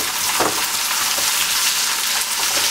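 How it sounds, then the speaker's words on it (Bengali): Ginger and garlic paste fries with browned onions in a pan for shakshouka, a loud, continuous close-up sizzle with faint stirring clicks. "এখন আমি এটার মধ্যে দিয়ে দিব যে 1 টিস্পুন করে আমি নিয়েছিলাম আদা রসুন পেস্ট"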